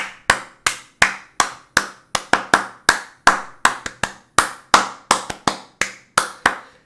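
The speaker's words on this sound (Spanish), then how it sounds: "es que he aplaudido" Steady run of single hand claps, about twenty in a row, sharp and close, each ringing briefly before the next.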